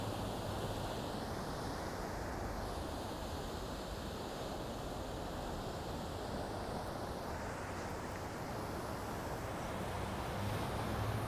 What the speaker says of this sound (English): time to be quiet and listen to the sea